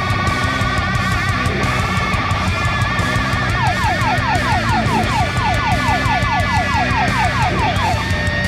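A loud ambulance siren wails and then breaks into rapid repeating yelp sweeps, close by and continuous, over a bed of steady traffic noise.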